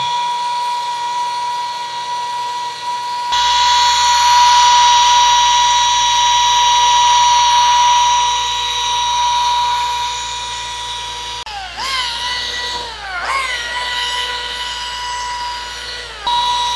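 A rotary polisher buffs scratches out of a finish with a steady high whine that swells as it loads against the surface, then dips and recovers twice near the end, loud and close with no speech.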